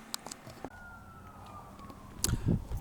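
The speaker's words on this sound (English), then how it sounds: "Don't mind the sirens," A police siren wailing faintly in the distance outside, its tone sliding slowly downward, with some nearby bumps and handling noise toward the end.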